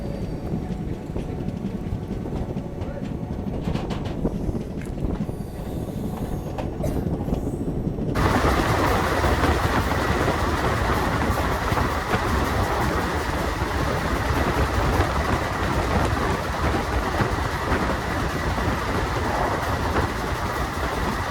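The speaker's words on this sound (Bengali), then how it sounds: "তো আমাদের ট্রেনটা এই বস্তি স্টেশনে মাত্র 2 মিনিট স্টপেজ দেওয়ার পর ছেড়ে দিলাম।" Express train 13020 Bagh Express pulls out of Basti railway station, heard as a steady loud rumble and rattle of moving carriages with wind noise, swelling sharply midway and then holding constant.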